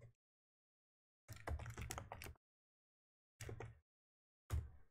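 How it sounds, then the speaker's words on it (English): Fingers typing on a computer keyboard at a desk: a dense run of quick clicking keystrokes lasting about a second, followed by two shorter clusters of taps, close and quiet, with no talk. "Typing ASMR."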